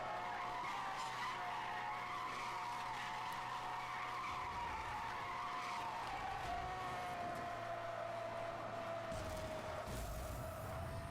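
Sustained tire squeal from a car drifting and skidding in the racing game Need for Speed Hot Pursuit Remastered, a loud, continuous screech over steady engine drone that wavers in pitch for the whole stretch.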